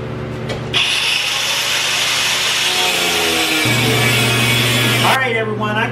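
A power saw cuts steadily through metal pieces for a trailer repair with a loud, sustained grinding whine that shifts in pitch midway, close and continuous.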